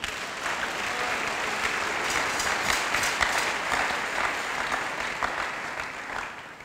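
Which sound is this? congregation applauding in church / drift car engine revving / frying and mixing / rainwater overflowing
congregation applauding in church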